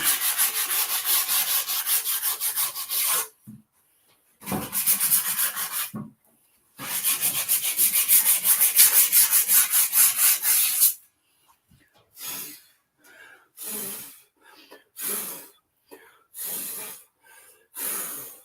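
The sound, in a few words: cleaning an old air cleaner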